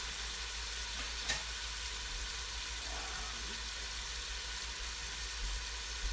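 Chicken pieces fry in a pan while cooking for chicken marsala, a steady broadband sizzle running alone and evenly throughout, with a couple of faint clinks.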